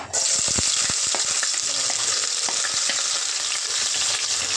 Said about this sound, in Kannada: ಎಣ್ಣೆ ಕಾದಿದೆ, ಅದಕ್ಕೆ ನಾನು ಒಂದು ಕಟ್ ಮಾಡಿರೋ ಈರುಳ್ಳಿನ ಹಾಕ್ಕೊತಿದ್ದೀನಿ.